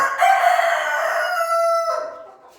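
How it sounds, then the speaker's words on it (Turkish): A single rooster crows nearby, a loud drawn-out cock-a-doodle-doo that rises, holds and fades away. "Şimdi şu horozlar olsun, şu tavuklar olsun"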